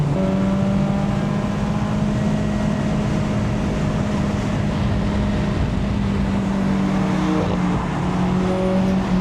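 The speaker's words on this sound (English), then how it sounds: "I absolutely love the way this car sounds. I think it's the perfect exhaust note." A Mazda NC Miata engine drones continuously at high revs on a race track, heard from inside the cabin, a loud buzzing exhaust note with slight pitch shifts and no talking.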